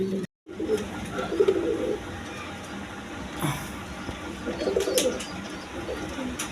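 A pair of Gorra pigeons coo in bursts, two clear rounds of throaty calls close by over a quiet background, after a short silent gap at the start.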